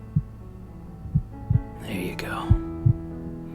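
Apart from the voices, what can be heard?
heartbeat sound in ASMR sleep aid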